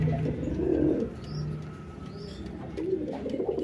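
Pigeons, Teddy-type fancy breeds, coo in low repeated rolling phrases, close by, with a few faint chirps from other birds in the background and no talking.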